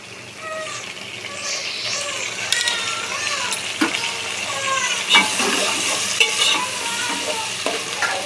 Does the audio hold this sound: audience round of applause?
no